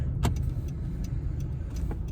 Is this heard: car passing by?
yes